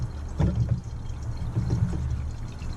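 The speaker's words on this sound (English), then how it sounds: "I am going to attempt to pour the entire bottle down into the juice" An entire bottle of Wray & Nephew overproof rum glugs into a container of juice for rum punch, with rhythmic gurgling pulses of liquid pouring close by and no talking.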